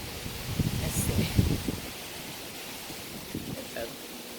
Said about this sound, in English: The leaves and stuff blowing around.